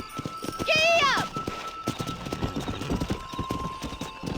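A horse in the Red Dead Redemption video game whinnies loudly, then steady rapid clip-clop hoofbeats of a gallop carry on beneath a rider's voice.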